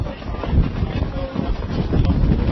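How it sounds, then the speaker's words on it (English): Strong wind at a windsurfing contest on the water roars and buffets the microphone steadily, loud and close throughout. A faint voice may sit under the wind. "The winds have increased."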